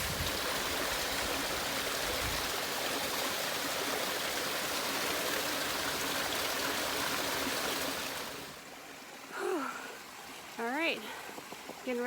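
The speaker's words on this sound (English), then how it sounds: "little waterfalls coming off of the cliff edge" Small waterfalls spill off a cliff edge into Belfast Creek on a Virginia hiking trail, a steady close rushing of water that fills most of the stretch before fading as a person begins talking.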